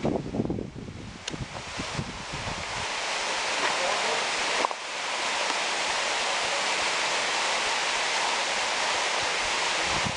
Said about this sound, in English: I thought I'd take you on the last couple hundred feet to reveal the waterfall at the end. This is Jump Creek Falls.